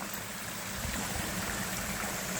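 Steady broadband rush of water at the top of a waterfall in a tropical forest at Rainbow Springs State Park in Dunnellon, Florida, a continuous, even flow with no voices.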